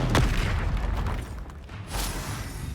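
Confringo blasting spell from the game Hogwarts Legacy going off as a deep, rumbling explosion with a sharp burst at the start and a second swell near the end, loud and sustained throughout.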